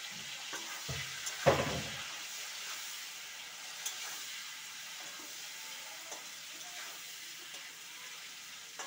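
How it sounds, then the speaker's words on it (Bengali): Hilsa fish head, seasoned with salt and turmeric, frying in a hot wok: a sharp sizzle flares as it goes into the oil, then settles into a steady, soft crackle close by with no talking. "ইলিশ মাছের মাথাটা আমি কড়াইতে দিয়ে দিলাম।"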